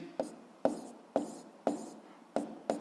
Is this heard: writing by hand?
yes